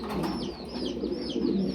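Pet pigeons coo in a steady, soft, rolling murmur close by, with overlapping calls continuing throughout.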